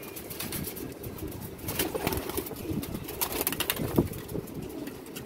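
Pigeon taking flight with repeated wing flaps and a soft coo, close by amid a steady outdoor background, no voices.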